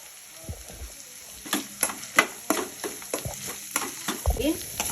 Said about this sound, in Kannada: ಇದನ್ನು ಚೆನ್ನಾಗಿ ಕೆಂಪಗೆ ಮೆತ್ತಗಾಗೋವರೆಗೂ ಹುರ್ಕೋಬೇಕಾಗುತ್ತೆ